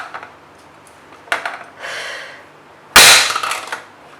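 Sharp plastic bangs and clattering knocks from a plastic vegetable dicer, a few isolated hits then a loud cracking slam with rattling afterward, close and sudden.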